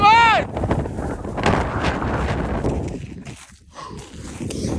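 A strong wind roars around a hillside during a snowstorm, heavy gusts buffeting the microphone in a loud, steady rush, with crunching steps and movement underneath.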